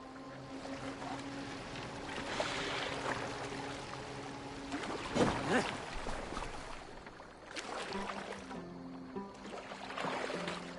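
A wooden longship glides through water in Assassin's Creed Valhalla, with lapping waves and splashing hull noise, a louder surge midway and creaking, under faint game ambience.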